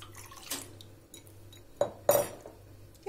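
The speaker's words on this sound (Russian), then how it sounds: "Отправляем сюда булгур." Dry bulgur is poured into a pot holding two litres of water on a stove, giving a few short clinking and splashing bursts over faint kitchen background, with no talking.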